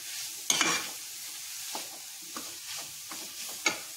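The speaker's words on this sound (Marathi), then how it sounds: "आता मी ह्याची फ्लेम जरा मीडियम करणार आहे आणि ह्याला छान हलवून घ्यायचंय" Food being stirred in a pan over a medium flame, with a spoon scraping and clinking a few times over soft sizzling of frying.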